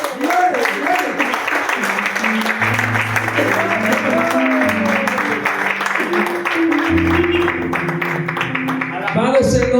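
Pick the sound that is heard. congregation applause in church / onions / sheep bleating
congregation applause in church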